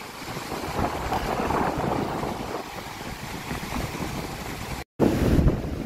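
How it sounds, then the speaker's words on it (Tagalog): Strong, fast-flowing river current rushes steadily in broadband noise, loud and close, with wind buffeting the microphone throughout and a brief cut near the end before the roar resumes. "malakas yung current ng tubig"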